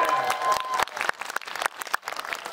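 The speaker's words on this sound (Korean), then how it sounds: "질문 주신 분에게 박수도 한번 주세요" An audience claps at a cinema live talk event with film stars. The burst of hand claps is close and sharp, sometimes thinning into scattered beats, and a voice cuts in partway.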